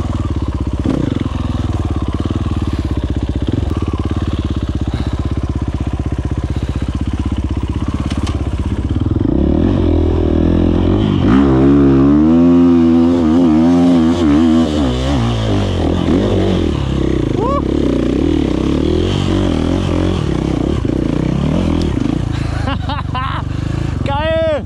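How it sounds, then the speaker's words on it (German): A motorcycle, two-stroke or four-stroke, rides down a steep off-road trail, its engine loud and close, droning and shifting in pitch as the rider brakes and rolls through the descent, with tyres crunching and thumping over rough ground. "Jetzt fahre ich hier runter"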